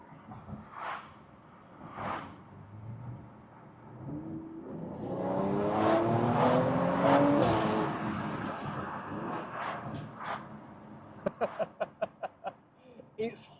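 A Mercedes C43 AMG with Stage 2 tuning accelerates hard in second gear in manual mode. Its engine note swells into a loud, rising roar for several seconds, then drops away and is followed by a quick run of sharp pops or clicks. Some talk is heard around it.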